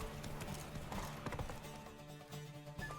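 The horse Roach gallops in The Witcher video game, its hooves clopping in quick rhythmic beats close by and fairly quiet, with game music tones underneath.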